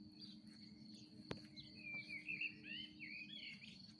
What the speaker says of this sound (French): Et je vous laisse entendre le bruit des oiseaux